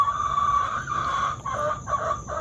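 A hen being picked up and held for inspection gives a steady run of soft, close clucking and murmuring with short breaks.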